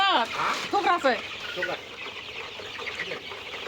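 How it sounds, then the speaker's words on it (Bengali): Three chickens squabbling nearby, loud agitated clucks and squawks coming in bursts early on, then settling into softer scattered clucking with background voices. "এই মুরগি তিনটা ফাইট করতেছে"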